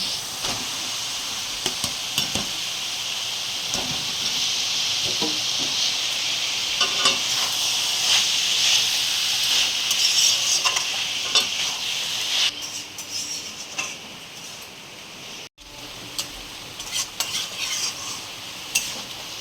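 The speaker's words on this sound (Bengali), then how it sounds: "এবার এর মধ্যে মোচাটা দিয়ে খানিকটা কষিয়ে নেব" Banana flower is sautéed in spice masala in a pan. A steady sizzle runs under repeated spoon scrapes and clinks, with a brief pause near the end before the stirring resumes.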